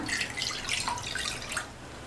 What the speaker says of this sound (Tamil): இந்த பேனில் தண்ணி சேர்க்காத 1 கப் பாலை சேர்த்துடலாம்.